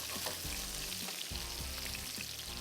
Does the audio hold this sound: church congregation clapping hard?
no